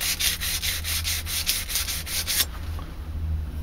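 Rhythmic back-and-forth strokes of 80 grit sandpaper rubbing across a steel knife blade, about nine even passes before the scraping stops and a quieter hiss remains, heard up close with no talking.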